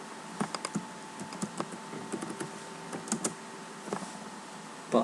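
Keys clatter on a computer keyboard while Java code is typed, in short irregular bursts of clicks with pauses between them, close and fairly quiet.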